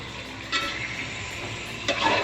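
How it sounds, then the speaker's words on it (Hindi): Beef for haleem fries in a pot with garlic, ginger and green chillies, giving a steady, moderate sizzle; two sharper scraping, clattering bursts come from a spoon stirring the meat around the pan. "सारा गोश्त मैंने डाल दिया है। अब मैं इसको अच्छे से मिक्स कर रही हूँ।"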